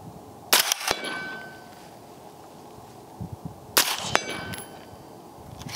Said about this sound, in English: I'm going to shoot the little 8-inch steel to the right of that